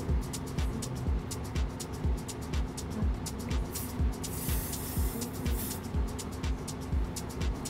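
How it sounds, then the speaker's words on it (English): Oribe soft-lacquer heat protectant sprayed onto hair in a run of short, rhythmic pump-spray bursts, close and fairly loud, each hiss quickly repeating over a faint background hum. "I am gonna go ahead and spray my hair with some heat protectant."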